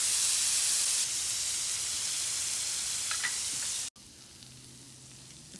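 Vegetarian shrimp sizzling on an Arteflame grill, a steady close frying hiss that runs unbroken for several seconds, then cuts off and returns quieter and thinner, with a faint low hum underneath.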